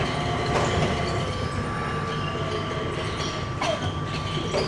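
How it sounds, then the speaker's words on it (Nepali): A Skytrain people-mover runs through Singapore's airport with a steady, fairly loud rolling rumble and hiss of rail travel that holds constant throughout, with no talk. "अब स्काई ट्रेन गइरहेछ अगाडि यसरी"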